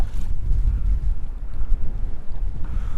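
Wind blowing while fishing for bass from a boat, a loud low rumbling buffet against the microphone that gusts steadily throughout, with no talking.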